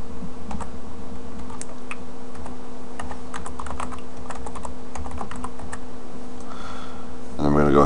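Quick, crisp keystrokes on a computer keyboard enter a command, an uneven run of close taps over a low steady hum, ending with a louder burst of keys.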